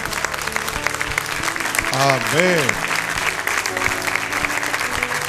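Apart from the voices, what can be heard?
church congregation applause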